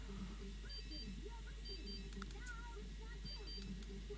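A mobile phone rings in The Sims 3 as a faint, repeating high electronic chirp in short bursts, running beneath steady speech and game background sound.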